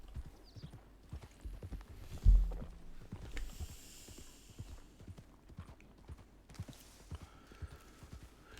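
A mule's hooves in Red Dead Redemption 2 clip-clop steadily at a walking pace, fairly quiet, with one heavier thump early on and faint ambient game sounds around them.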